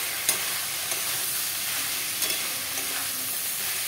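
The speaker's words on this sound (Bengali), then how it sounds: "যে সব মশলার উপকরণগুলো দিয়ে এটাকে ভালো করে আমি খুন্তি দিয়ে" Spices with turmeric powder and ginger being stir-fried with a metal spatula for a banana-flower and prawn dish, a steady hiss of frying with a few soft scrapes, close and alone.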